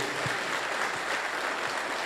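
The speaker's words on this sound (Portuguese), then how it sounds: "a igreja aplaude ao Senhor por ele" A church congregation applauds to honour a member on his 59th birthday, a soft, steady patter of hands heard at moderate distance, with a few low thumps beneath.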